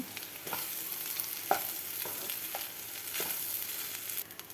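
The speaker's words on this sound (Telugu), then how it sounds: "రైస్ కూడా బాగా వేగాలి ఫ్రెండ్స్ అప్పుడే టేస్ట్ వస్తుంది" Leftover rice being stir-fried into fried rice, with a steady, soft sizzle of frying and occasional scraping strokes of a spatula across the pan, no voices.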